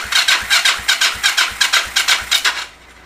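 A Yamaha XS400 motorcycle's starter motor cranks weakly, a close, loud run of about ten slow, even, labored turns in steady rhythm before it cuts out and goes quiet.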